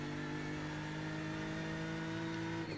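A diesel race car in iRacing revving hard, a steady mid-pitched engine drone with sustained harmonic whine, held high and then easing off near the end, moderately quiet and uninterrupted by speech.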